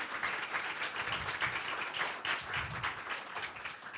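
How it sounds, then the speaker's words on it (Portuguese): Audience applause at the close of a business panel event: many hands clap together, soft and somewhat distant, in a continuous even patter with no voices on top. "Uma salva de palmas aí para o evento e para quem participou, para os apresentadores."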